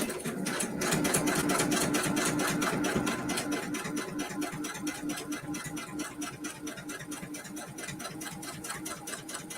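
Sewing machine running out of bobbin thread while sewing a mini quilt, a fast, even, continuous stitching rattle, close and steady throughout.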